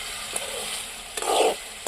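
Chicken curry sizzles and sautés in a pan, a steady bright hiss with a louder burst of frying as it is stirred partway through, no talk.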